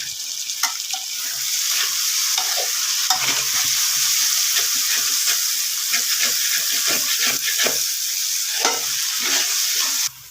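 Chopped tomatoes sizzling and frying in a hot pan while being stirred, a steady close hiss with repeated scraping strokes of the spoon throughout, no talking.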